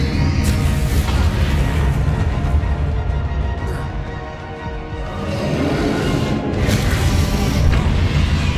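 A Bombarda blasting spell in Hogwarts Legacy sets off loud, rumbling explosive booms with crashing debris that swell, ease off briefly around the middle and surge again, dense and close throughout.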